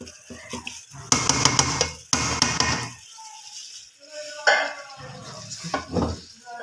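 Potato and eggplant sabzi stirred in a pot, with a burst of loud metal spoon scrapes and clatter against the pot, then quieter scraping and rattling with a faint sizzle, no talking.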